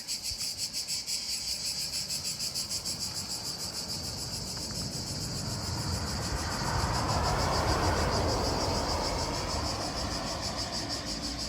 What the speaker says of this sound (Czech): A řvou tady cikády.